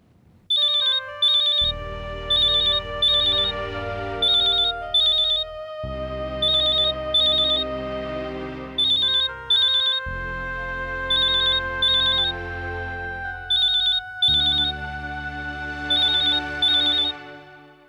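A phone rings while a call is placed to Anand: a loud ringtone of repeating chiming phrases with short pauses, cycling four times over about eighteen seconds, alone with no voices.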